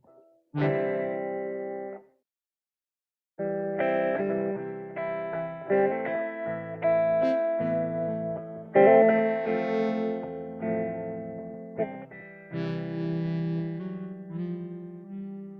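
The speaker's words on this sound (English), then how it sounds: "I don't even like the sound of my guitar on that." An electric guitar played through an effects unit rings out in sustained, chorused and distorted chords and notes, with a brief pause early on before the phrases resume and overlap.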